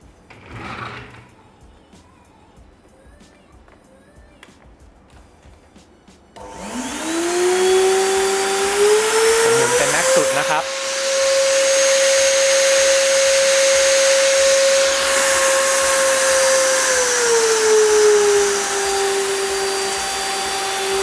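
An IMARFLEX VC-910 vacuum cleaner with an 1800 W motor switches on after a few quiet seconds. It spins up to a loud, steady whining roar with a strong tonal hum that shifts slightly as it runs.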